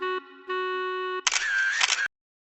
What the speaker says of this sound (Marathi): आपला फोटो ह्या क्षणाला कॅमेरामध्ये कैद करूया.